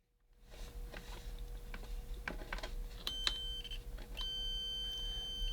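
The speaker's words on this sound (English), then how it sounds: "It just beeps and all the lights light up and flash at you." A 12V battery device connected with reversed polarity gives off a string of electronic beeps over a steady hum and some clicking, its tones sharp and close.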